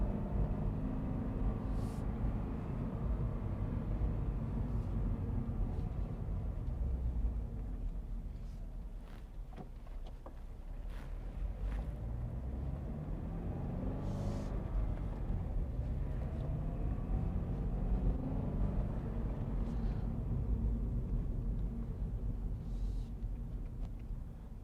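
A 2022 Subaru BRZ on a test drive gives a continuous low engine rumble from inside the car. The drone rises and falls gently over its length, with scattered faint clicks and knocks on top.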